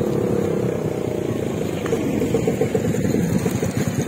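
A motorcycle engine idles close by in a steady, loud mechanical rumble on a morning ride toward Taal volcano, with a brief uneven patch partway through.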